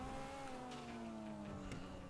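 A Kuruma car in GTA Online drives along with a steady engine drone whose pitch slowly falls. The game car sounds close and continuous, with no talking.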